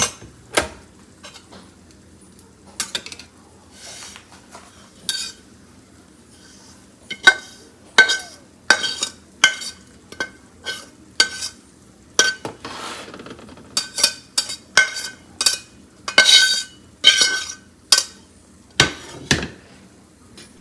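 Semolina being fried in ghee in a pan, with a metal spoon repeatedly scraping and clinking against the pan in irregular bursts and pauses, close and fairly loud with no talk.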